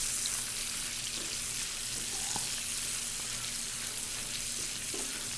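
Bacon renders in a pan with a steady, dense sizzle that runs unbroken throughout, with faint scattered pops and clicks underneath.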